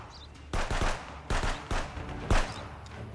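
Pistol gunfire in the game Contraband Police comes as bursts of sharp, loud shots in quick clusters with brief gaps between them, close and dominant, with no talking.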